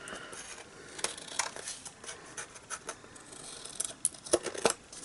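Scissors snip and trim overhanging patterned paper at close range, a run of crisp irregular cuts with light scratchy paper rustle, steady and clear with no talking.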